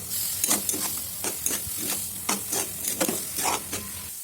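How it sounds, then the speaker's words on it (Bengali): Fish jhuri frying in a pan over a lowered gas flame: a steady sizzle runs throughout while a spatula scrapes and stirs in repeated strokes, close and clear, with no talking. "আর গ্যাসের আঁচটা কমিয়ে দিয়ে ভাজুন"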